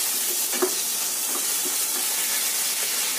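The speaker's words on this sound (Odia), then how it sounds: "ଜିରା ଟିକେ ପକାଇବା, ଜିରେ ପକାଇବା, ଏ ଭୃଷଙ୍ଗ ପତ୍ର ପକାଇବା" Cumin seeds and curry leaves sizzling in hot oil with mustard seeds for a whole moong dal curry, a steady close frying hiss with a few soft pops and stirring sounds.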